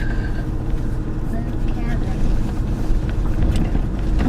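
A four-wheel drive vehicle climbing a steep, sharp turn, a steady low engine and road rumble heard from inside, with wind noise over it.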